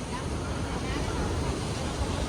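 Sea waves wash around the temple at Bet Dwarka, a steady broadband roar of surf mixed with wind buffeting the microphone, continuous and fairly loud throughout.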